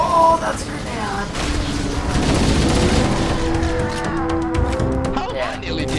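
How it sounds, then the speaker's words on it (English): A grenade goes off in the Halo video game, a muffled boom and rumble amid game sounds, with someone talking loudly over it. "Oh, that's a grenade!"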